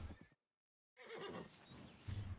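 An Arabian horse in the video game Red Dead Redemption 2 gives a clear, close whinny, breaks off into a short silence, then whinnies again with faint hoof clip-clop.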